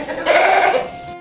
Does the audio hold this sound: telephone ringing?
no